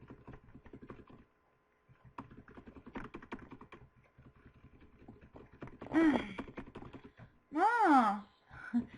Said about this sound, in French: Si vous entendez mon clavier, je vais essayer de régler ça.